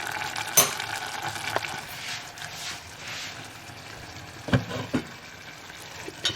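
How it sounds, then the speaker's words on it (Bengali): Pulao being stirred in a pan with a spoon, a few distinct scrapes and clinks against the metal over a soft background sizzle, moderately close and without any talking. "এবার একটু নাড়াচাড়া দিয়ে ঢাকা দিয়ে তারপরেই আমি সার্ভ করব"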